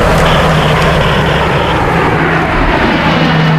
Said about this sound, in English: They didn't hesitate to call in the firefighting Air Force of retardant-dropping tankers and water-dropping helicopters